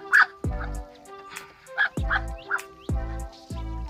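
Muscovy ducks in their pen at a small poultry farm, a series of short close calls repeating every half second or so over a quiet background, with no talk.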